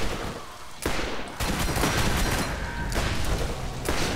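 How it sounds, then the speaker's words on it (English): Revolver fire in the video game Borderlands: sharp, loud shots burst in quick succession with crackling blasts and a sustained rumble filling the gaps, heavy and close throughout. "Again, my revolver saves me."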